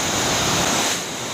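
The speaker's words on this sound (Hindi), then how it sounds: "यहाँ पर पानी का भी काफ़ी ज़्यादा शोर है" A village mountain stream called Ghat Gadhera rushes loudly and steadily, a broad roaring wash of water that stays constant throughout and eases off only slightly toward the end.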